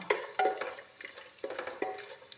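Dry fruits sizzle and crackle softly in hot desi ghee while being stirred, with a series of short scraping strokes and light frying hiss, fairly quiet and close, no talking.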